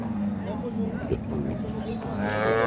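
A Friesian cow moos at a busy rural livestock market in Dinajpur, Bangladesh, a single low call heard near, with people talking and crowd noise around it.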